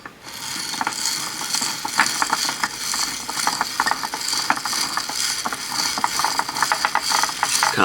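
A bead spinner whirs as a needle picks up beads, giving a continuous rattling, ratcheting clatter with rapid irregular clicks that stays steady and close throughout, with no speech.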